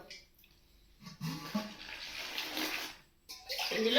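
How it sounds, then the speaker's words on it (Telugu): Water poured into a bowl of flour for gyarelu dough, a broad splashing, trickling wash that swells for a couple of seconds, pauses briefly, then resumes loudly near the mic. "ఏమండి ఇప్పుడు మనం వాటర్ పోద్దామండి"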